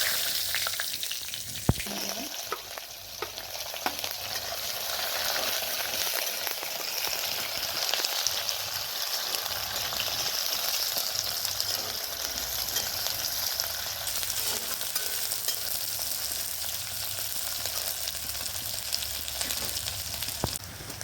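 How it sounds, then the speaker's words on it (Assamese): Cumin and a bay leaf sizzle and crackle in hot oil, a steady frying hiss throughout with small pops, no talking. "এইখিনি তেলতে জিৰা আধা চামুচ দি দিছোঁ, আকৌ তেজপাত এটা দিছোঁ"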